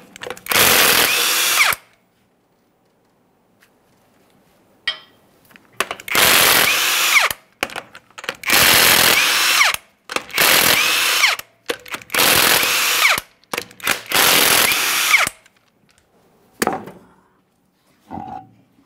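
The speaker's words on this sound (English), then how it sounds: "To remove the wheel, you want to remove each of your 21mm lug nuts" Power tool spinning off the 21mm wheel lug nuts on a 2015-2020 Ford F-150, five loud close bursts of whirring and rattling impact, each about two seconds, separated by quiet gaps and small clicks.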